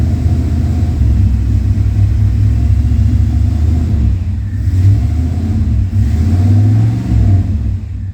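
A Chevy OBS C1500 pickup with a flooding throttle-body-injected engine, low on gas, idles roughly with a loud, steady low rumble that dips and surges unevenly before stalling out.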